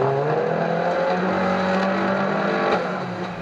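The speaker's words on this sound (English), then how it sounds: "So down the back straight and in with a fairly meaty shot there from Big T and 82" Unlimited banger racing cars at a Kings Lynn Halloween carnival meeting, with loud engines roaring and revving continuously on the track and a brief sharper burst near the end.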